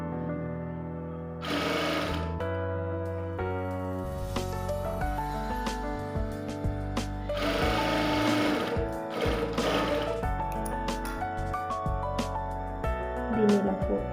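Sewing machine stitching a lining blouse in short runs, a close steady mechanical whirr that starts, pauses and restarts, with someone talking over parts of it.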